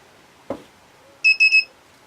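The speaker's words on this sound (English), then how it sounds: "you'll hear a beep as it reaches the correct torque setting" A torque wrench beeps as it reaches the set torque while bolts are tightened during a Honda 400/4 engine rebuild: a single soft tap, then a quick run of three loud, bright electronic beeps.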